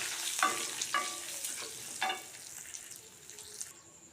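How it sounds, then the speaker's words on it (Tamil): Asafoetida and turmeric powder are stirred in a pan, giving a soft, close sizzle with a few ringing clinks of the spoon against the metal. "பெருங்காயத்தூள், மஞ்சள் தூள், நல்லா கலந்து விட்டுக்குவோம்."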